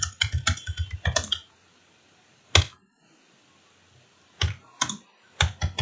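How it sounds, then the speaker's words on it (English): Query typed on a computer keyboard, close and crisp: a quick burst of keystrokes, a lone tap, a pause of near silence, then several more scattered key presses, with no one speaking. "in this chat bar you can type in your query."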